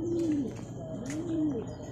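Birds coo softly, two drawn-out calls a moment apart, with faint rustling around them and no voices.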